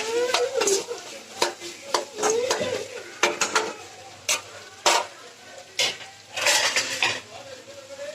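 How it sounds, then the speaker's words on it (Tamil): Potato stir-fry being stirred in a pan, with repeated clanks of a utensil against metal over a faint sizzle, then a lid clattering on; close and moderately loud, no talk. "கிண்டி விட்டுட்டு ஒரு மூடி போட்டு மூடி வச்சுக்கலாம்."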